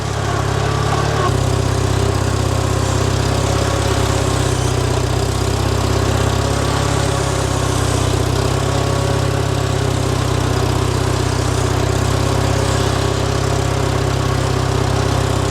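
A tractor engine runs steadily while turning a farm wagon around near a feed grinder, a loud continuous mid-pitched drone with no pauses throughout.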